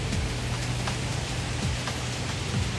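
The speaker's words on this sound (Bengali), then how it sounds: "এই যে বৃষ্টির ফোঁট" Steady rain pours in a casuarina forest at Kuakata, a dense, even hiss of drops with a few heavier patters, close and continuous, with no voices.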